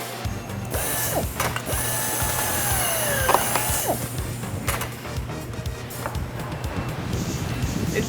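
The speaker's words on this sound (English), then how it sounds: "And as you see there, he just drills the bung out" Drill boring the bung out of a barrel in a factory, a loud, steady mechanical grinding and ratcheting whine over a low machine hum, close up throughout with no talk.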